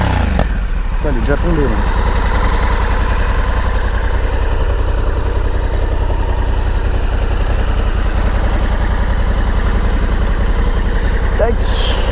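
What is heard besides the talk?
Honda Africa Twin DCT motorcycle exhaust, revving then idling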